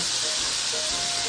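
Chicken fries in butter in a pan with a steady, loud hiss and sizzle, continuous and close with no pauses.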